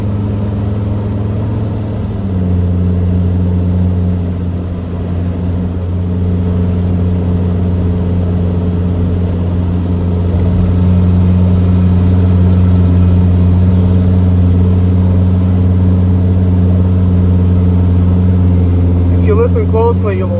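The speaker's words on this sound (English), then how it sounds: "Closely, you will sort of hear the turbo, the way it's working." A T1N Mercedes Sprinter van accelerates slowly uphill with a suspected failing turbo, giving a steady loud engine drone with a constant hum heard from inside the cabin throughout.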